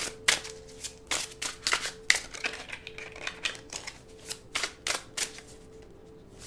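Tarot cards are shuffled by hand in quick riffling bursts, a sharp papery flutter repeating about a dozen times with brief pauses, close to the microphone and without talk.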